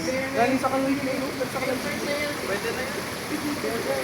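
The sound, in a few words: flowing water in a stream or canal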